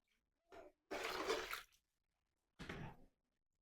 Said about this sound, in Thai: เฮาสิเทน้ำลงไปก่อนนะทุกคน